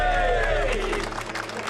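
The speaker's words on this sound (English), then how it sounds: "Go on, big cheer." Crowd of construction workers giving a big cheer on cue, loud whoops and shouts bursting at once and fading over a couple of seconds.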